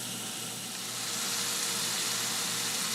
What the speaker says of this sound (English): While the ground beef is frying